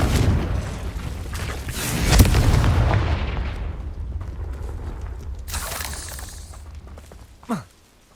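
A fiery Confringo spell blast from Hogwarts Legacy on PS5: a heavy booming burst swells early, rumbles and slowly decays. A softer whoosh follows, then a short sharp zip near the end, with no talk.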